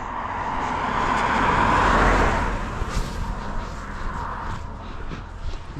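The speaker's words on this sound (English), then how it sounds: "Car coming" A car passes along a road, its tyre and engine noise swelling to a peak and then receding into a softer hiss as it moves away.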